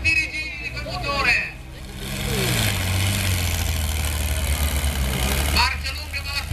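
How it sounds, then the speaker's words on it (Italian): A heavy Fiat 980 tractor engine at a tractor pulling event rumbles low and then climbs into a sustained strained roar, with people talking over it at the start and end. "facci sentire i giri di quel motore"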